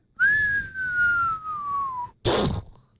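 A man whistles a single long, slowly descending note, close and clear, imitating a cartoon character's fall off a cliff, followed by a sharp splat sound made with the mouth.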